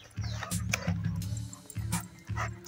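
Dogs playing with short, repeated growls and grumbling vocal bursts come in quick clusters at close range, with no talk over them.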